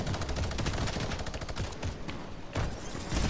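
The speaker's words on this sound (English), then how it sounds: "What is this minigun?" Minigun in the Fortnite video game firing in a long, loud, continuous burst of rapid shots, briefly pausing near the end before resuming.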